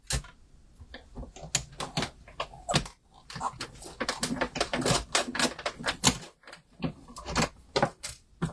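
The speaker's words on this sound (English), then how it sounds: "Let's cut that piece out." Toadstool Gardens designer series paper being cut up close, a rapid run of crisp clicks, snips and rustles that come in uneven bursts across the whole stretch.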